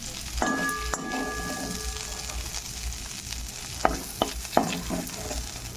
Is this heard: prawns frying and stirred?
yes